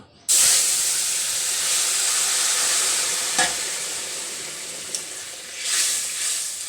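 Cumin and spices hit hot oil in a pan for a bitter gourd and fish head curry, bursting into a loud continuous sizzle and hiss that slowly eases, with a few faint clinks, close up.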